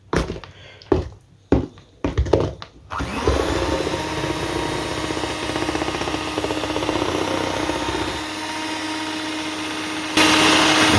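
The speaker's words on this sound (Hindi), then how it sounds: "पहले हम एक बार इसके अंदर ये आइसिंग शुगर ऐसे मिक्स कर लेंगे ताकि जब हम इसको चलाएं तो ये उड़े नहीं।" A kitchen blender whirs steadily for several seconds, mixing fruit salad cream with icing sugar, a loud continuous motor drone after a few brief clattering bumps as it starts up.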